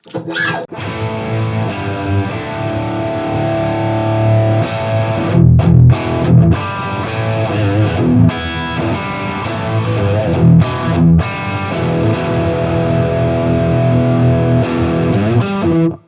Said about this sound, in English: Crank the drive up on the distortion.